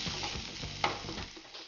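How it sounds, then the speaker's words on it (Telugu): Finely chopped onions fry with green chillies and curry leaves for oats upma, a steady close sizzle broken by the scrape of a stirring spoon against the pan, no voices. "సన్నగా చాప్ చేసుకున్న ఆనియన్స్, కొంచెం ట్రాన్స్పరెంట్ కలర్ వచ్చే వరకు ఫ్రై చేసుకోవాలి."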